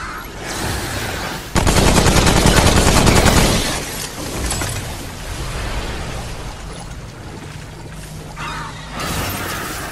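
Gunfire in Remnant rattles out as a loud, rapid automatic burst, then gives way to quieter scattered shots and game ambience.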